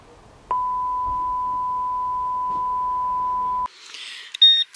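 A metal detector in a field sounds one steady, loud tone for about three seconds, then gives a short burst of higher electronic chirps.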